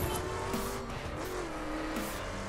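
Race cars in The Crew roar along with a steady engine drone, punctuated by repeated tire squeals and skids as they corner hard, loud and close with no talking.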